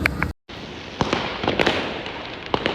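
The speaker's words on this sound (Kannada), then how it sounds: "ಗೈಸ್ ಎಲ್ಲ ಕಡೆ ಪಟಾಕಿ, ಫುಲ್ ಎಲ್ಲ ಕಡೆ ಸೆಲೆಬ್ರೇಷನ್ಸ್" Firecrackers go off all around during birthday and cricket-match celebrations, with several sharp bangs at uneven intervals over a continuous crackling roar, loud and close after a brief silence at the start.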